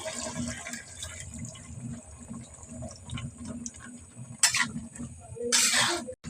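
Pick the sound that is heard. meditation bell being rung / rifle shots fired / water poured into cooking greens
water poured into cooking greens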